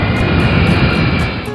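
A golden airplane flies overhead with a loud, steady engine drone that fades slightly toward the end.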